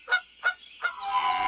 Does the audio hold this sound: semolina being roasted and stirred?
no